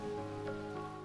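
Rain falling in the video game Sword Art Online Hollow Realization, a steady hissing patter sitting under sustained background music tones, even and continuous with no talking.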